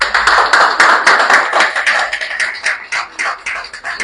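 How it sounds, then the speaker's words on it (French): A small group claps loudly and unevenly after a vote count at a federation presidential election, with crisp, separate hand claps that thin out and grow more scattered toward the end. "Ça s'applaudit, ça."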